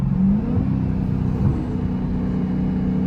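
A Dodge Challenger Hellcat engine with supercharger whine rumbles nearby, its pitch shifting and dipping as it downshifts, with a steady low drone underneath.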